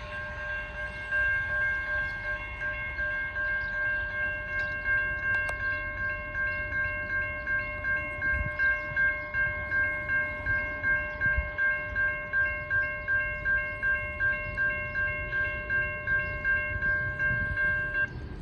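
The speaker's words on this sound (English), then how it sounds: "We're going to catch the Loram rail grinder going across the railroad crossing over here." A Loram rail grinder rolls across a railroad crossing while the crossing bells clang in a steady, rapid rhythm with a sustained ringing tone, and the machinery rumbles low and continuous underneath.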